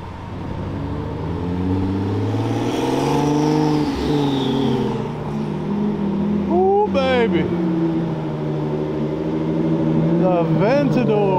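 Modified supercars rev hard at a gas station takeover, with a loud, sustained engine roar rising and falling up close, sharp throttle blips and rising revs, while people talk over it.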